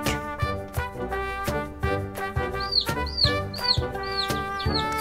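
A baby chick cheeps in a run of short, high, repeated peeps during the second half, set against a bright, rhythmic musical backing.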